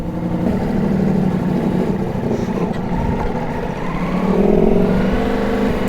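A Ducati Multistrada V4S motorcycle engine runs and revs up, a steady close rumble that rises louder toward the end, with no talking.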